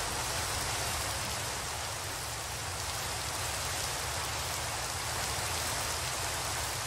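Steady, dense rainfall in a video game, a constant close hiss of drops pattering on surfaces that fills the whole stretch without pauses or voices.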